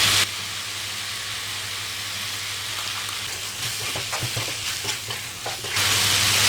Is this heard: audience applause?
no